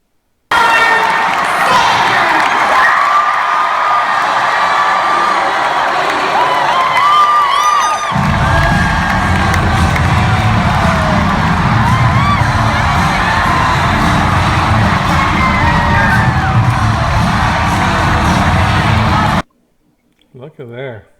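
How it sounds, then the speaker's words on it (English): A large crowd at a Bernie Sanders rally for the New Hampshire primary cheers and roars continuously for nearly twenty seconds, loud and dense, with voices talking over it before it cuts off abruptly. "I'm gonna show this video of his crowd. It's a pretty big crowd."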